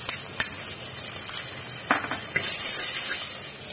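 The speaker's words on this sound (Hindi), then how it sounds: "प्याज को हम बहुत हल्का सा सौते कर लिया है।" Onion sautéing in a pan with ginger garlic paste, a steady sizzle of frying under intermittent scraping and clinking of a utensil being stirred against the metal pan.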